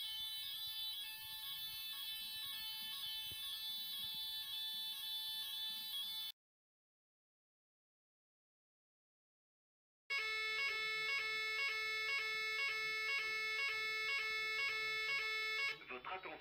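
A building fire alarm evacuation signal sounds as a loud, steady electronic tone pattern, cutting off for a few seconds of silence and then resuming with a repeating pulsed tone, with no talk over it.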